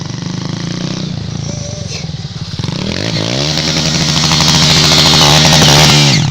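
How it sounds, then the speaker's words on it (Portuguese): A motorcycle engine runs loud and close, idling roughly at first, then revving up into a sustained high, buzzing drone. "Vem cá resolver o problema dessa moto, Keb."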